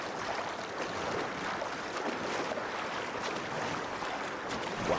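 Boat ride across water in the video game Red Dead Redemption 2, with a steady broadband wash of water and hull noise holding at a constant level throughout, no talk.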